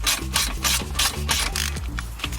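A ratchet loosens the 11mm Allen-key caliper bolts on a Range Rover Evoque brake carrier, with rapid repeated clicking strokes heard up close in steady bursts.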